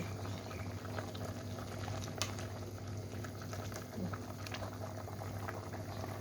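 A pot of choy sum simmering with pork bones bubbles at a steady boil, a dense continuous burble with small pops, heard up close and alone without voices.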